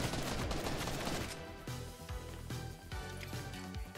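Gunfire in a video game, with a loud rapid burst of shots at the start easing into scattered sharp cracks and thuds over a steady background.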